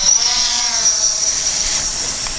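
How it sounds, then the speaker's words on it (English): A DJI Phantom 4 quadcopter climbs at full throttle, its high, steady rotor whine loud and close, easing slightly as it rises away. "let's see how fast this thing can fly. Full throttle up."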